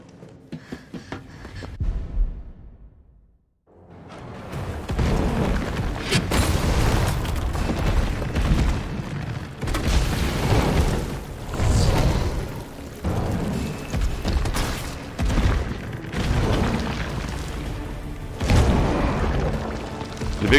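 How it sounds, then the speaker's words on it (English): A shotgun loaded with acid rounds fires repeatedly in Resident Evil 3, with heavy booming blasts over continuous loud game action after a brief quieter opening. "I'm gonna start off with the shotgun"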